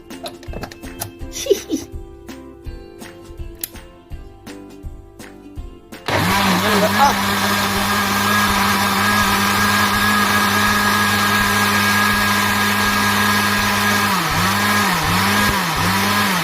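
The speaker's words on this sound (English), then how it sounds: "Remember to plug in the blender." A blender making a smoothie starts up abruptly and runs loudly and steadily, its motor pitch dipping a few times near the end as it churns.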